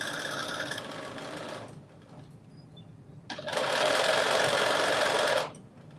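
A sewing machine stitching the side seam of a pair of pants, with two loud, steady runs of close mechanical whirring separated by a short quiet pause.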